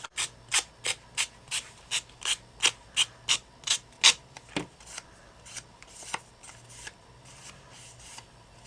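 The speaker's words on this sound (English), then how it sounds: "I'm going to use the sanding block on that" A sanding block makes rhythmic scraping strokes on paper edges, about a dozen evenly spaced rasps, close and crisp, slowing and softening into scattered scratches toward the end.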